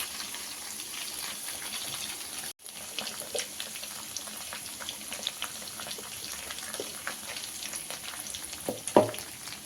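Paneer fried rice sizzling and frying steadily in a pan, a continuous close crackle with occasional stirring scrapes and one brief break.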